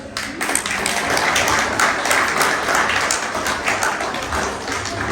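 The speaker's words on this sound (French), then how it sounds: "Est-ce qu'on peut applaudir à ceux qui l'ont préparé?" An audience at a school Black History Month closing event applauds those who prepared the food, a dense, steady burst of clapping that holds for several seconds.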